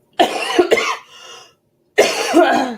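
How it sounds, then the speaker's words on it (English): Several harsh coughs close up: two quick coughs, a short pause with a wheezy breath, then another coughing fit. "The cough has not gone away."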